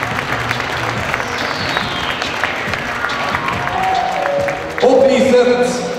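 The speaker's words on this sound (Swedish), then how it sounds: "Applåder för nummer 6 i Ystad" A crowd at a LUGI HF versus Ystads IF handball match applauds Ystad's player number 6, sustained clapping filling the arena, swelling louder near the end alongside an announcer's voice and a tonal cue.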